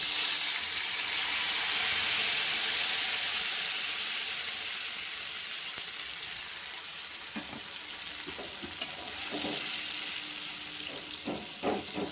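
Spice paste frying in hot oil with fenugreek seeds, a constant close sizzle and hiss with scattered soft clinks and stirring scrapes of a utensil toward the end, no talking.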